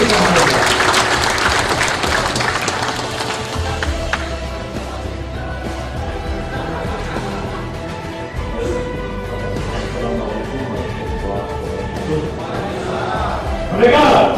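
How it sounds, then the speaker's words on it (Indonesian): An audience bursts into loud applause at a political gathering, clapping strongly at first then settling into a steady, sustained patter, swelling again briefly at the end. "Mari kita beri aplaus yang meriah untuk Bung Yusril Izzah Mahendra"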